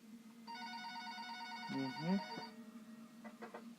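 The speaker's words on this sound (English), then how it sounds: "the phone on the counter rang" A telephone on a shop counter ringing with a steady electronic bell tone for about two seconds, then short repeated ring bursts, clear and close with a faint voice-like sound in the middle.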